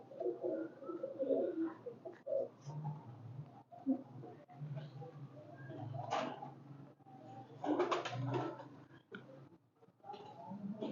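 Pet pigeons coo softly in a loft, with repeated low throaty calls and a few higher chirps, at moderate distance and fairly quiet, with faint voices now and then.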